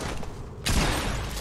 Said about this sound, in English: Isn't that like the fucking World War II gun?